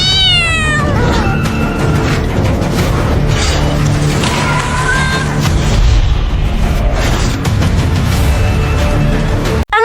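Added sound effects accompany a cat's adventure through an underground parking garage: light cat footsteps and occasional thumping bumps. Loud meows ring out over a dense, busy mix that continues throughout.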